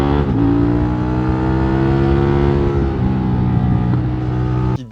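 A Suzuki GSX-8S motorcycle's 92-horsepower twin-cylinder engine revs loudly and close up with a rough, steady drone for nearly five seconds before cutting off abruptly.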